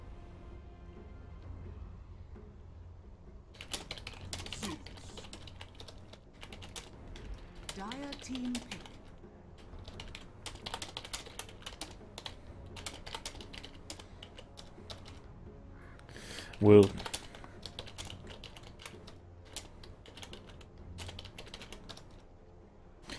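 Computer keyboard typing during an esports match broadcast, soft scattered bursts of key clicks at close range, interrupted by brief murmured speech and an occasional louder knock.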